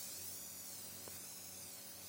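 Spray paint hisses from a can in a continuous, faint, airy spray while a gravelly rock ground texture is built up, holding steady for about two seconds with no voices.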